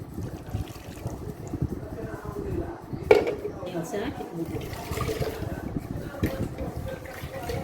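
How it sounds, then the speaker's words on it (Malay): Water mixed with finely ground fish heads is poured and strained, giving splashing, trickling liquid sounds and a clink of kitchenware close by, with someone talking throughout. "Kepala ikan yang telah kita kisar halus ni kita campur dengan air tadi kan, tapis ya."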